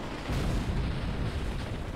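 Helicopter explosions in the video game Batman Arkham City roll out as a dense, loud, rumbling blast that swells near the start and keeps churning without pause.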